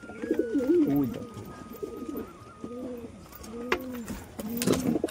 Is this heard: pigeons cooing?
yes